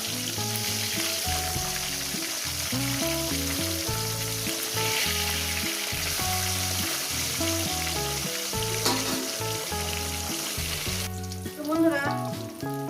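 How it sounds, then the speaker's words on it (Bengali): Katla fish pieces fry in hot oil with a dense, steady crackling sizzle, broken by occasional stirring or turning sounds near the end, no voices. "মাছগুলো আমার ভাজা হয়ে গেছে"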